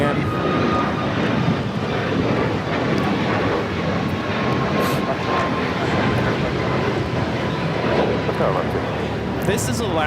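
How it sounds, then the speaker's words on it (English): An Alaska Airlines Boeing 737 MAX 9 takes off from Los Angeles for Seattle, a loud, continuous jet roar with a thin steady whine running through it and a slight swell near the end. "1083 taking off to Seattle on the MAX 9"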